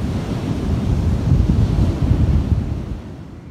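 Ocean surf rolls onto the natural shoreline of Pantai Pasir beach, a broad continuous wash swelling and fading, heavily buffeted by wind noise on the microphone.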